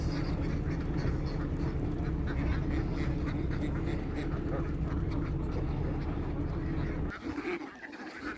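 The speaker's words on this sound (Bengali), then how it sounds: "এই হচ্ছে আমার ফার্মের হাঁস। এগুলো হচ্ছে ডিম পাড়ার হাঁস।" Laying ducks on a poultry farm in Saudi Arabia quack in a dense, continuous flock chorus with low rumbling in the background; the noise drops away abruptly near the end.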